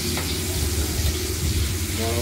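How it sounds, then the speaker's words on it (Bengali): Rohu fish pieces coated in salt and turmeric fry in hot oil, a dense, steady, close sizzle that fills the whole stretch with crackling hiss. "গরম করে রুই মাছগুলোকে ভেজে নেব।"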